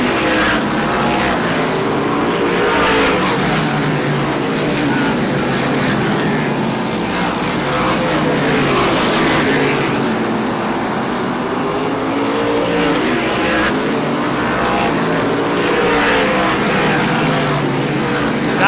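Race cars roaring around Star Speedway during an SBM 125 race, a dense pack of engines droning and swelling as they pass, with continuous loud track noise throughout.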